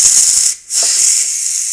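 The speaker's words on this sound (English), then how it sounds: "when you open the valve, have a glove. Okay? It's going to be hot steam coming out." Hot steam hisses from the opened pressure valve of a Ninja Foodi multicooker, a loud, steady rush of high-pitched air that dips briefly before resuming and continuing strongly.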